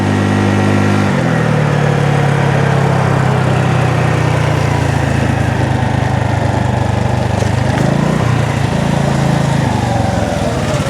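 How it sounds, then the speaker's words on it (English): A Honda Navi motorcycle's small engine drones loud and close while riding, a buzzing steady tone whose pitch drops early on, then dips briefly and recovers near the end, with wind noise and no talk. "This motorcycle is so fun to ride."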